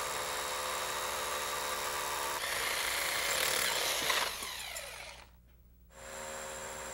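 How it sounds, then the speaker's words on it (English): Hammer drill with a carbide-tipped bit boring through brick, a steady loud grinding whir with a rougher, harsher stretch midway before the drill briefly stops and then starts again. "I'm going to use a carbide-tipped bit and a hammer drill. Now, this drill actually hammers as it rotates."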